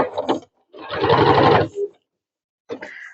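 A sewing machine stitches a bag in short bursts, with one solid run of rapid mechanical chatter between brief starts and stops that are separated by silence.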